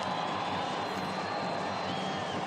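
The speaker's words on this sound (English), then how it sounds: "Oh, listen to this crowd." Basketball arena crowd cheering for Rwanda during a game against Great Britain, a continuous roar of many voices, steady and moderately loud throughout.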